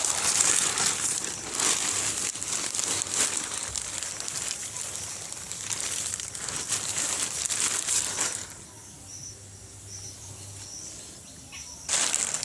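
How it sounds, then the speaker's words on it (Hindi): Polythene sheet pulled open off a paddy-straw mushroom bed, loud close crinkling and rustling for about eight seconds, then quieter before a final burst of crackling plastic. "सुबह 9 या 10 बजे पॉलीथीन को हम खोल देंगे।"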